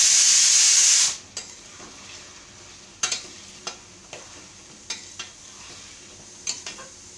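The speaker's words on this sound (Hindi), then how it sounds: "अभी हम टमाटर डाल देते हैं। 4 टमाटर लिए हैं।" Tomatoes go onto a hot tava for pav bhaji with a loud sizzling hiss that cuts off after about a second, followed by repeated sharp scraping knocks of stirring at an uneven pace.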